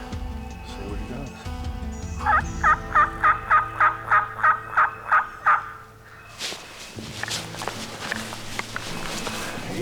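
A wild turkey gobbler gobbles in answer to soft hen yelps during a midday hunt across a creek, a run of about ten loud, close, evenly spaced gobble pulses, with rustling and muffled movement afterward.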